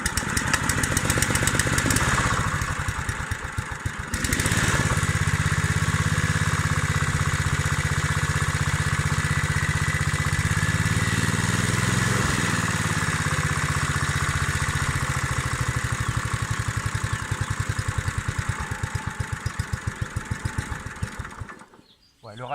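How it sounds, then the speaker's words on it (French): A Honda HR-21 lawn mower with a GV150 engine idles in a steady, low, continuous putter for a long stretch, briefly faltering early on, then cutting out at the end. "le ralenti est un peu bas, je vais le régler"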